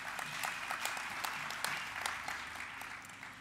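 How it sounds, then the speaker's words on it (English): An audience at an annual award ceremony applauds steadily, a dense wash of clapping with sharper individual claps standing out, fairly distant and without voices over it. "A round of applause for everyone."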